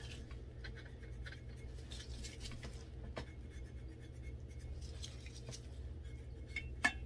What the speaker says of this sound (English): Okay, I'm just going to quickly zip off any pencil marks that are still showing.